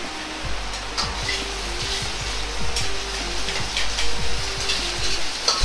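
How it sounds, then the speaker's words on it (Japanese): Pork pieces dusted with starch, pepper and salt frying in a little oil in a pan over low heat, giving a steady soft sizzle with faint crackles and occasional light scraping, close and without talk. "鍋に少量の油を入れ肉を弱火で焼いていきます。"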